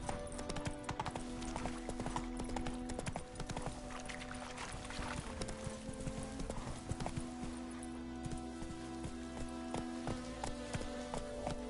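Roach the horse gallops in Witcher 3, a fast steady clip-clop of hooves running throughout with occasional faint game sounds, no voices over it.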